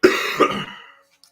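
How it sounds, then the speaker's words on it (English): A single sharp cough, loud and close, with a second smaller burst right after and a brief tail fading out within about a second. "So sorry about the cough"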